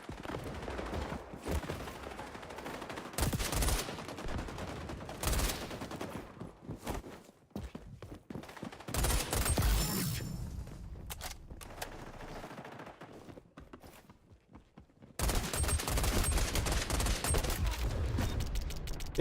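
Gunfire from the video game XDefiant, with bursts of automatic shots and single cracks coming in loud clusters separated by quieter stretches, then a sustained heavy barrage at the end.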